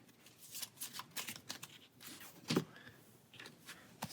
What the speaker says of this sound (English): So we've constructed her deck and shuffled that up.